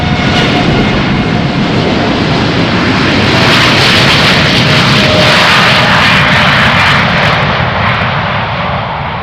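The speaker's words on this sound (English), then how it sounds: "Sounds like a D-rated takeoff." Air Europa Boeing 787-8 jet departing Amsterdam Schiphol runway 36L on a derated takeoff, a loud continuous engine roar and rumble that swells and holds steady throughout, with a broad hissing wash over a deep low rumble.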